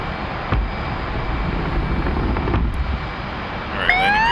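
An F/A-18C jet in the DCS flight sim, taking off, gives a loud continuous engine roar with a couple of sharp thumps and a rising whine near the end, with no talk over it.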